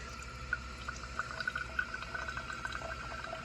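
A Keurig coffee machine runs water through in a thin stream, trickling and pouring steadily with a low motor hum underneath, small drips and splashes scattered throughout, no talking.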